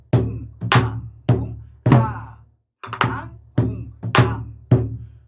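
A buk drum is struck in the jajinmori rhythm for pansori accompaniment, with eight loud, close, resonant strokes in quick groups and a brief pause midway.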